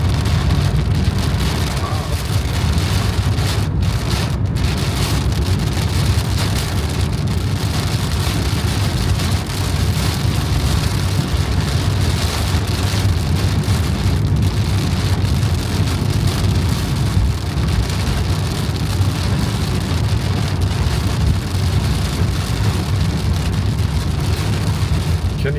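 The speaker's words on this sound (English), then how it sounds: "Now it's raining so hard I can't see a thing." Heavy rain pours down steadily and loudly, a dense continuous roar drumming on a car during a winter storm road trip near Yellowstone, with occasional sharper bursts and no voices.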